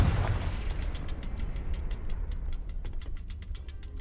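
The Confringo fire spell cast in Hogwarts Legacy: a burst of rumbling fire followed by a fast train of sharp ticking crackles that keep pulsing at an even rhythm, alone without speech.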